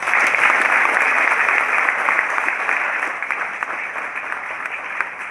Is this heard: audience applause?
yes